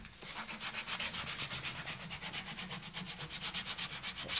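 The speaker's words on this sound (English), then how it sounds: "just to finish it off, if you get your sandpaper," Sandpaper rubbed by hand over a toe guard and frame, a close, steady back-and-forth scratching in even rhythmic strokes, about two per second, with no talk.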